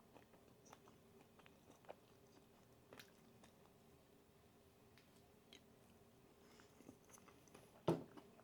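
Someone bites and chews thin crust pizza from Aldi with hot sauce, soft close mouth sounds with scattered small crunches and one sharper bite near the end, otherwise quiet.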